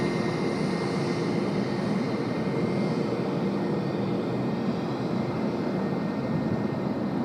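A Jetstar Airbus A320 at Sydney Airport gives off a steady, distant jet engine rumble with a broad roar and a faint high whine, holding constant throughout.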